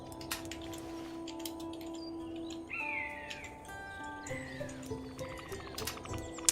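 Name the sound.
collectible melody of short chirps, from a video game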